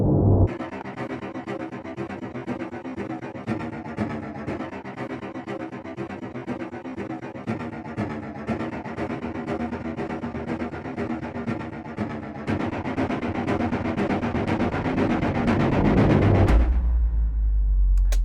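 Layered cellos swell and sustain through a dense, processed arrangement with a thick low-mid body, steady and loud, building in intensity before cutting off sharply near the end.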